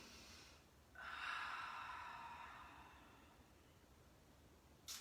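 A single deep breath during a beginner yoga flow: a slow, airy inhale rises after a short pause and tapers over a couple of seconds, close and soft, followed by a brief sharp exhale at the end.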